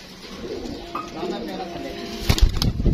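Pigeons kept in a backyard loft coo softly in the background, with someone talking over them throughout and a brief louder burst of sound near the end.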